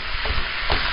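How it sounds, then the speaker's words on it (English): Ground turkey browning in a pan of oil, a steady broadband sizzle and crackle with a couple of louder bursts as the meat is stirred, close and continuous for about a second. "And we just browning our meat"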